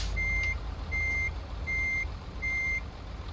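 A MAN TGS truck in a driving video game sounds its reversing alarm: four evenly spaced, steady electronic beeps over a low engine hum.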